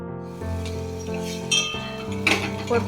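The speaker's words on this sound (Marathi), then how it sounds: "याच्यामध्ये आपण शेंगा टाकून देऊ." Drumstick pods (shevga) tossed into a pan of lightly sautéed masala for a Maharashtrian vegetable dish, giving a few clinks and rattles against the pan over a steady sizzle, close and moderately loud.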